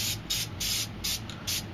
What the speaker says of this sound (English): I'm going to spray a little bit of white right here just to make the moon a little bit brighter